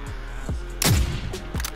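Gunshots in Modern Warfare, a few separate sharp cracks spaced apart with one louder, heavier blast in the middle, close and punchy against quiet background.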